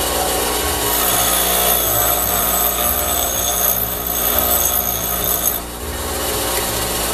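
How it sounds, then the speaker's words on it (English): A low-grade steel bolt is pressed against a bench grinder for a spark test, giving a steady, loud abrasive grinding hiss that runs continuously and dips briefly near the end. "Now I'm going to take this lower grade piece of bolt, and we'll see if we get some sparks off of that."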